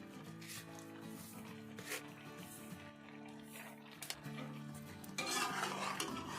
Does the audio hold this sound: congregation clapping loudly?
no